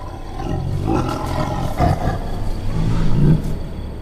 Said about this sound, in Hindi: राम और लक्ष्मण ने भयंकर चीखों और दहाड़ों से गूंजते घने जंगल को देखा।